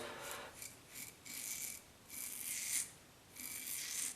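A Phoenix Double Open Comb double-edged safety razor scrapes close across lathered whiskers in about six short rasping strokes, with brief quiet gaps between them.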